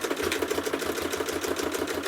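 A sewing machine stitching down the edge of a quilt, with a fast, steady mechanical chatter of needle strokes, close and fairly loud, running without a break and no voices.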